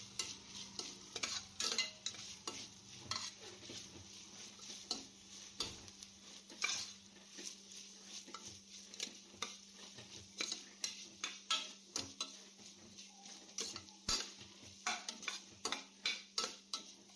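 Ginger garlic paste sautéed in a pan for seeraga samba ghee rice: a steady low sizzle under repeated scraping and stirring strokes of a spoon against the pan, close and moderately quiet.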